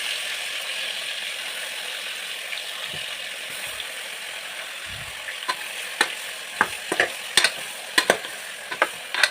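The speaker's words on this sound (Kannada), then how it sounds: "ಸ್ವಲ್ಪ ಫ್ರೈ ಮಾಡಬೇಕು, ಎಣ್ಣೆಯಲ್ಲಿ ಫ್ರೈ ಮಾಡಬೇಕು." Brinjals coated in masala fry in oil, giving a steady hiss with a run of sharp crackles and pops toward the end, close by with no talking.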